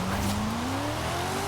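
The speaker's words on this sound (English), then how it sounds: "with all these builds for the Tandem Terrors, you're going to need to drift in 5th gear" Tires squeal continuously as a 2002 Mazda RX-7 drifts in fifth gear on wet ground in the Forza Horizon 5 video game, a loud sustained screech with a slowly rising engine tone underneath.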